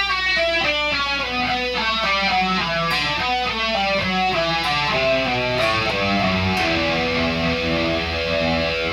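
An electric guitar plays a solo, a dense run of fast distorted notes sustained throughout at a loud, steady level with no voices.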